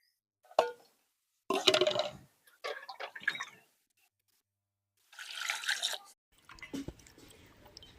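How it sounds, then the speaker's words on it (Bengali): Palm kernels are washed in water in a kitchen: several short, separate bursts of splashing and trickling with small clinks against a container, close by, with silence between them. "তো এবারে আমি ভালোভাবে জল দিয়ে ধুয়ে নেব।"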